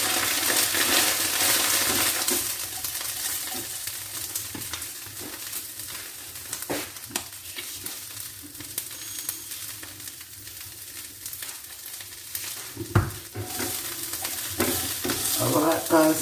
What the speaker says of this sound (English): it says stir fry for 2 to 3 minutes